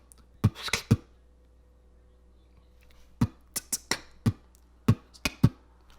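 Beatboxed beginner rhythm made with the mouth, a voice imitating bass drum, snare and hi-hat in short sharp hits: a cluster of quick beats, a pause of about two seconds, then a steady run of separate hits, close and fairly clear.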